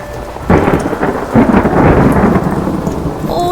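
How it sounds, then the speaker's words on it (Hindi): Heavy rain pours down steadily with a deep rumble of thunder swelling in from about half a second and rolling on, loud and close, with no voices over it. "ओ नहीं, इतनी तेज बारिश।"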